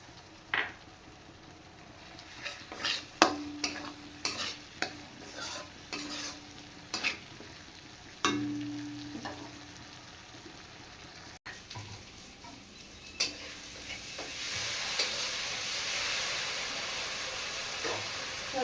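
Spice paste of clove, cardamom and cinnamon with chopped tomato frying in a pan, heard as a series of scattered stirring scrapes and knocks over a soft sizzle that grows into a broader hiss toward the end.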